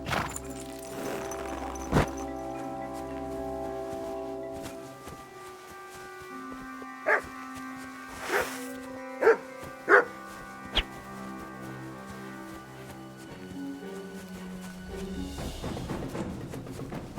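A dog barks in the medieval video game Kingdom Come Deliverance II, a few short, distant yips over a backdrop of soft game music and ambient tones.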